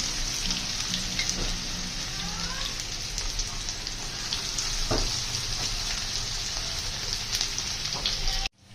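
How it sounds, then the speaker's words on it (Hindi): Three chapli kababs sizzle steadily in hot ghee over a medium flame, a close, continuous frying crackle with occasional pops that cuts off abruptly near the end. "ये देखिए इस तरह हमने 3 जो चपली कबाब है वो डाल दिए इसके अंदर फ्राई होने के लिए"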